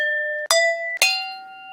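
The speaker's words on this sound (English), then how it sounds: "Like those are frying pans" A recorded sample of frying pans and kitchen bowls being struck: two sharp metallic clangs, each leaving a bright, pure ringing tone that hangs on clearly with nothing else over it.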